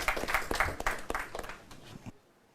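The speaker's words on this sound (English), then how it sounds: "a round of applause for him." Audience applause at a university law competition, a short burst of scattered clapping that starts moderately loud and quickly thins out, fading to silence within about two seconds.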